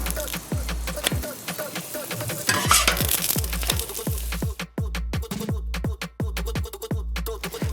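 Lamb, spinach and feta gözleme flatbread frying in oil on a Weber Slate griddle after the flip: steady close sizzle with repeated sharp scraping and tapping of a spatula, no talking.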